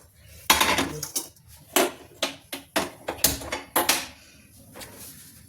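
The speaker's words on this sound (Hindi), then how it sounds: "तो अब चढ़ा देते हैं इधर हम पैन।" A metal pan set onto a kitchen stove for Indian cooking, a series of sharp clanks and knocks in an uneven rhythm, close and fairly loud with no talking.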